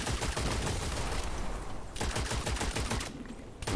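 Rapid gunfire in the first-person shooter Witchfire rattles out in dense, continuous bursts. It breaks briefly twice before the shooting resumes, loud and close, with no talking.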